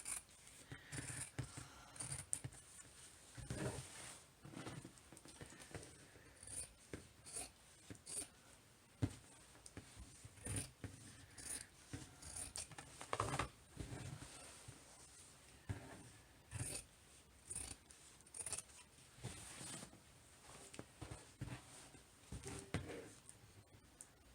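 Scissors snip and crunch repeatedly through fabric for an ironing board cover close up, in uneven bursts of cuts with small rustles and pauses between them.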